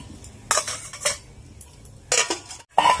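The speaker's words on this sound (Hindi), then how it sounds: "हुण दुध नूं हिला दिंदे आ, चौलां नूं कर दिंदे चंगी तरह मिक्स" A spoon scrapes and clinks against a metal pot while stirring milk and rice for kheer, in short irregular bursts with quiet gaps between, loud and close.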